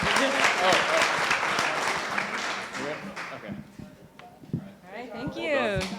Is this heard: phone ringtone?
no